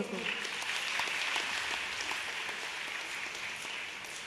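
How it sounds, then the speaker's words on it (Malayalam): A crowd at a religious festival dedication ceremony applauds a revered Swamiji, a soft, distant, even patter of clapping that lasts the whole stretch, with a voice faintly audible beneath. "സംപൂജ്യ സ്വാമിജിക്ക് നല്ലൊരു കൈയടി കൊടുക്കൂ"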